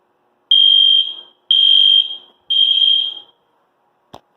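Three loud, piercing alarm beeps from a smoke detector, each about half a second, evenly spaced, then a brief click at the end.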